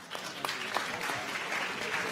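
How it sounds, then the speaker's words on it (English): Crowd applause at a youth climate summit at the UN, a steady wash of clapping from a large audience, fairly faint and distant, sustained throughout with a few sharper claps standing out. "One more round of applause for the Summer of Solutions."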